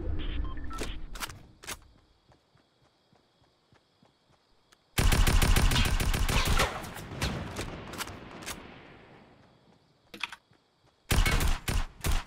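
Gunfire in the Fortnite video game: rapid automatic bursts crackle loudly in long stretches, with scattered single shots and gaps of quiet between volleys.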